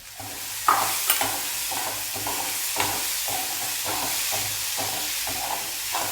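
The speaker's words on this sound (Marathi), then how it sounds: "आता पुन्हा आपण हे भाजलेले बिया ह्यात टाकूया त्याच्याबरोबर आता आपण हलवूया हे" Roasted pavta beans are stirred into an onion-tomato masala frying in a pan, with a steady close sizzle and hiss under repeated scraping stirs, no voices.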